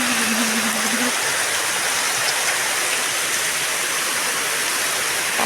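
Heavy rushing floodwater pours through drains during a night downpour, a loud, steady broadband roar of water with rain mixed in that fills the whole clip, with a brief low tonal hum near the start.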